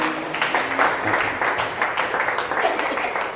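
Congregation at a Chenganassery retreat clapping hands in thanks, a steady run of close rhythmic applause with some voices mixed in.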